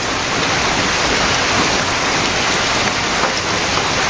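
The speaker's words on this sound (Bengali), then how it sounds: "বৃষ্টি এক ঘন্টা হয়ে যায় বৃষ্টি হইতেছে" Dense, steady heavy rain pouring down, a loud continuous wash of drops with no pauses.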